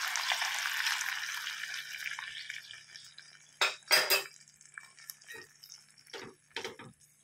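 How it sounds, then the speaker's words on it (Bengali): A cornflour and water slurry goes into chilli chicken in a pan: a brief hiss fades out, then a few sharp clanks and scrapes of a utensil stirring in the pan. "এই কর্নফ্লাওয়ারের গোলাটা দিয়ে দিলাম।"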